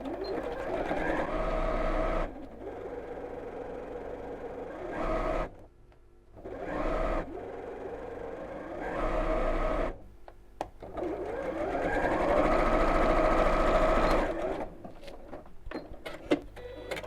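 Sewing machine stitching the bottom three sides of a child's backpack, two fabric pieces sewn right sides together, running in several long bursts of rapid whirring with short pauses between, close and steady.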